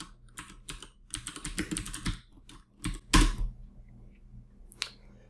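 Fingers type on a computer keyboard in quick irregular bursts of clicks, with short pauses between runs and one louder keystroke near the middle, close and clear with no talking.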